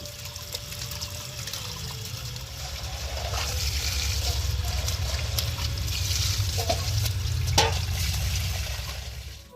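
Tap water runs steadily while meat is washed under it, a continuous splashing stream with a few clinks and knocks from handling partway through, fairly close and with no talk over it.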